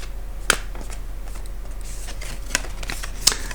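Tarot cards are shuffled and drawn close up, with a few sharp card snaps and faint rustling scattered over a steady low hum.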